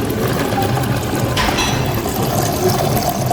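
A soda water vending machine fills a bottle with still water first, before the carbonation. It makes a loud, steady hum of pumping and pouring, with a brief hissing surge partway through.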